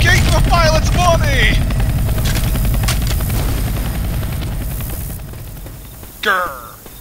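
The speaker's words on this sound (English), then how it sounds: "Helicopter! Shoot it down!" A helicopter in the video game Left 4 Dead 2, a loud continuous rotor thrum mixed with gunfire, fading steadily in the middle and later cut by a short boom, while excited voices shout over it.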